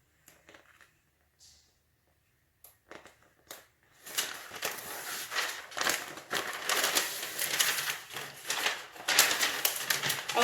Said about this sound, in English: Got to peel the backing off.